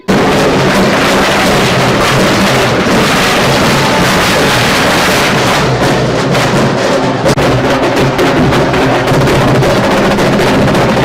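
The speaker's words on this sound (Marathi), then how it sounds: "फटाक्यांची जोरदार आतषबाजी करण्यात आली" Dense, continuous crackling and popping bursts fill the air loudly, a relentless barrage of firecrackers going off without pause at a mayoral election celebration in Solapur.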